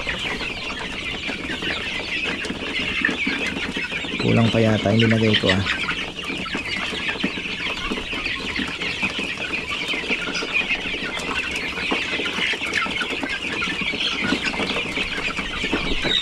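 Free-range farmyard chickens cluck among growing chicks, a short burst of clucking near the middle over constant high insect-like background noise, with a person talking briefly.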